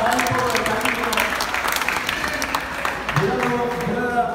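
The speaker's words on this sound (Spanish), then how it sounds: "fuerte el aplauso" Crowd applause at a freestyle rap battle qualifier, steady dense clapping with cheering voices layered over it, continuous for a few seconds.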